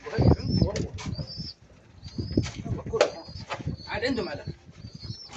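Newly bought pigeons in a loft flap their wings in several short bursts, with chirps and faint coos mixed in, while someone talks throughout.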